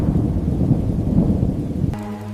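Heavy rain pours in a dense, steady roar with low thunder rumbling underneath, then the storm sound drops away into a softer, humming tone near the end.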